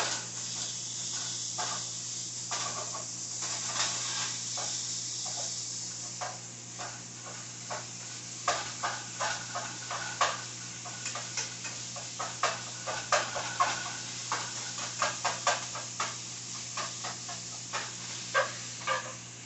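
Ground beef sizzles in a pan with onions and peppers for stuffed peppers, a steady close hiss that gives way to repeated sharp crackles and clinks as the mix is stirred.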